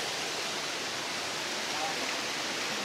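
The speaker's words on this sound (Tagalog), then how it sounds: "Daloy ng tubig." Water pours steadily at Matang Tubig falls in Barangay Casile, Cabuyao, Laguna, a continuous broadband rush with no breaks, close and fairly loud throughout.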